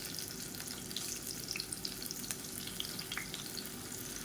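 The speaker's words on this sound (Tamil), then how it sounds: "இப்போ வாழைக்காய் நல்லா ஊறிடுச்சு எண்ணெய் நல்லா சூடாயிடுச்சு ஒவ்வொரு வாழைக்காயாக சேர்த்துக்கலாம்" Raw banana slices fry in hot oil in a pan, giving a close, steady crackling sizzle with small pops scattered through it and no talking.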